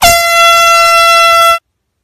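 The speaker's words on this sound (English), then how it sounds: "Air horn prank." A single loud, sustained air horn blast sounds alone for about a second and a half and then cuts off into silence.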